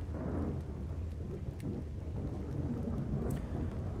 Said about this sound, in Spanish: Se ha puesto a llover.